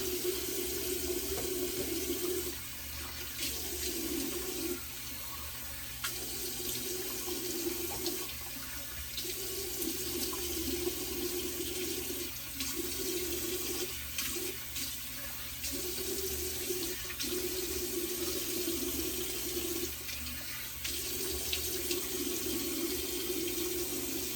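Tap water runs steadily into a sink for a rinse after a straight razor shave of a long goatee, with a continuous hissing flow broken by brief dips as hands pass under the stream.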